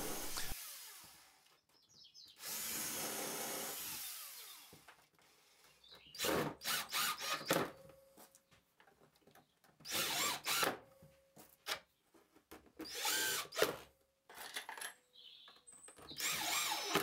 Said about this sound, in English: To hold the backplates on, I drill and screw into the blocks I mentioned earlier.